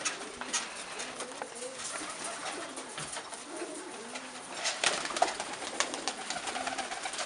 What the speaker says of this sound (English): I've got them homing pigeons out there